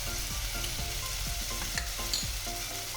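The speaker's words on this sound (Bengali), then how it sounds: "এবার এটাকে ভালো করে কষাবো" Turmeric and salt sauté in hot oil in a pan for papaya kofta curry. A steady close sizzle runs throughout, broken by rhythmic spatula strokes against the pan, with no voices.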